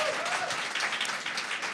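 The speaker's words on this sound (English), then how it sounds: "clap it up for Al Green" An audience claps steadily for Congressman Al Green, a dense, even wash of applause from many hands with no break.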